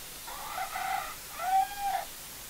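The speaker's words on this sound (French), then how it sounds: "il y a un coq aussi là" A rooster crows outdoors twice in quick succession, a near but moderately quiet call with no talk over it.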